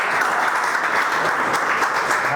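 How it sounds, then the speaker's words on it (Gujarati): Dense, steady applause from a seminar audience at a homeopathy training session for general practitioners, many hands clapping together in a continuous wash with no pauses, loud and close. "સરખી તાળીઓ પાડો થોડી."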